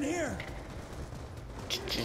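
Rifle gunfire in Call of Duty: Black Ops 2 on PC, a faint, muffled burst of shots under a talking voice, with a couple of sharper cracks near the end.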